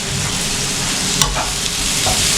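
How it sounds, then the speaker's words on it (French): Sliced onions sauté in a pan with a bright, continuous sizzle and a couple of quick spatula scrapes, loud and close with no voices. "On va venir faire revenir notre oignon émincé"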